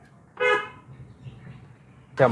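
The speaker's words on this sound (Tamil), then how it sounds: "ஹார்ன் அடி" Two short, loud car horn honks, the first early and the second at the end, over a low idling engine rumble.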